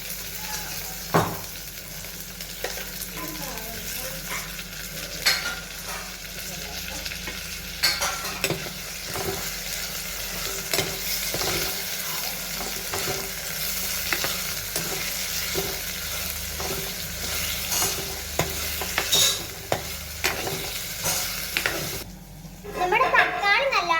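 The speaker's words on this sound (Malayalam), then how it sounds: "ഇനി നമുക്ക് തക്കാളി ഇട്ടൊന്ന് വഴറ്റിയെടുക്കാം" Tomatoes are sautéed in a pan with browned onion and ginger, giving a steady close sizzle with repeated scraping stirs of a spoon and occasional clacks against the pan.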